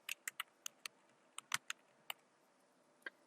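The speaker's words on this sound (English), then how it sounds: "I'm going to type in my email address" Fingers typing an email address on a computer keyboard, a dozen or so crisp irregular key clicks in quick bursts with short pauses, close and fairly quiet, no speech.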